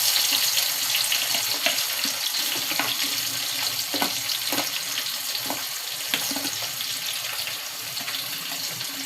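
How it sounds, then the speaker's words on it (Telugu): Chopped onions sizzle in hot oil in a tempering pan with cumin, a continuous close frying hiss broken by occasional light clicks of stirring, with no talk. "ఇప్పుడు తాలింపులో ఉల్లిగడ్డలు వేసుకున్నాం."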